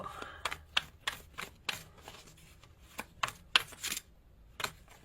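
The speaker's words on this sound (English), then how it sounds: "I know the shuffling can be annoying sometimes" A deck of tarot cards being shuffled up close, a series of quick crisp riffles and soft slaps at an irregular rhythm, quiet and without talking.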